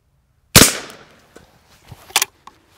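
A Henry H001 lever-action rifle fires a .22LR shotshell at a can and tin: a single sharp close report with a short decaying tail, followed by light clinks and a second smaller crack from the target.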